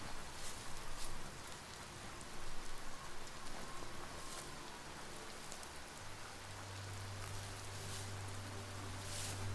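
Steady rain pattering on a muddy path in the video game Biomutant, a dense, even hiss that holds throughout, with a low droning hum entering near the end.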